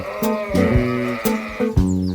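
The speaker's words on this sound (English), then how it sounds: "He was a shepherd, which meant that he looked after sheep." Sheep bleat loudly and close by, several wavering calls overlapping in quick succession with no talking.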